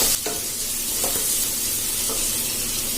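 Finely chopped onions lightly sautéing in a pan for a bread veg sandwich filling, a continuous close sizzle with a few soft stirring taps, no voices.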